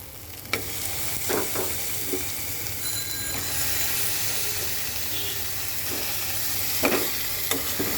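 Spice paste with ground mixed nuts frying in a pan for a country chicken curry, a steady soft sizzle with occasional scraping stir clicks, close and fairly quiet, with no talking.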